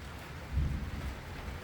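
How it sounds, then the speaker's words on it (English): Thunder rumbling low and muffled with steady rain during a storm on a ridge, heard from inside a leaking house; a brief swell of rumble rises over the continuous patter of rain, no talking. "Thunder and lightning again."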